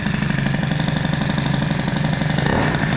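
Peugeot 103 moped with a boosted Doppler engine idles close by, a steady low throbbing putter with rapid regular firing pulses, slightly uneven and running a touch low, heard alone.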